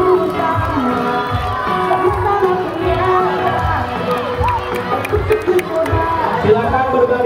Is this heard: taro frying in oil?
no